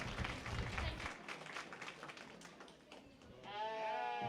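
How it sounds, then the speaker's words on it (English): Spectators at a junior livestock show's lamb showmanship class clap for the young exhibitors, fairly faint and distant across an arena, with a lamb bleating clearly near the end. "Give all these kids one big round of applause"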